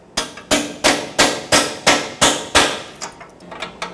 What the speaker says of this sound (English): I'm gonna hammer a 13 millimeter on there.